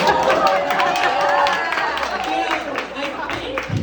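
Comedy show audience breaking into loud, sustained applause with cheering and crowd noise, a dense wash of clapping that holds steady for several seconds before easing slightly.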